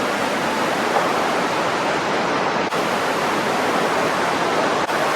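Water rushing through a cave, a loud, dense and unbroken roar of flowing water that fills the space evenly from start to finish.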